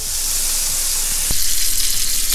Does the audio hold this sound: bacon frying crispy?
yes